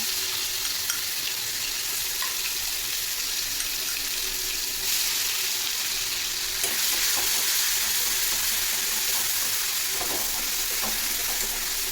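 Spice paste sizzles and spits in hot mustard oil for a okra dish, a loud, constant close frying hiss with occasional crackles and stirring scrapes, no voices.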